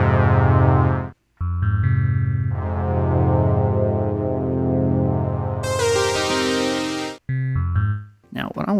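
Sustained synth tones from a JX10 and a DX10 crossfaded by a signal generator effect on a MOD Duo X blend and shift in timbre, one layered sound fading into a brighter one, with brief silent gaps and a short burst near the end.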